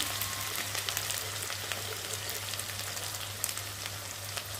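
Garlic fries with onion in a pan, giving a steady close sizzle with scattered small crackles over a low electrical hum, and no one talks.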